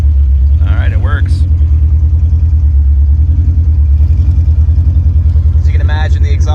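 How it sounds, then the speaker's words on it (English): A Honda K24 engine runs through an open header, giving a loud, close, steady low exhaust rumble with a pulsing beat, while people talk briefly over it. "the exhaust is ending right here, so I'm getting the full brunt of the sound and the smell"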